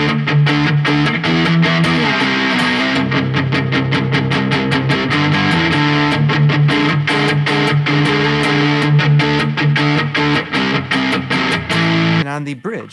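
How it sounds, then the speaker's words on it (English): Electric guitar fitted with PRS SE NF3 pickups, played through a RAT distortion pedal as a dense, fast riff of chugging palm-muted notes and chords, loud and continuous, ending on a short burst. "If we add a rat distortion, we get this."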